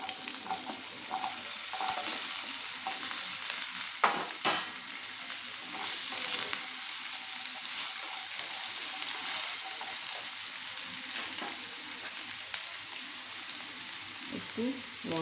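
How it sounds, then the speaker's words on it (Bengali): Potatoes fry in a pan over medium heat with a steady, soft sizzle and occasional stirring scrapes and clinks, close up and continuous throughout. "এবার আমি আলুগুলি ভেজে নেব।"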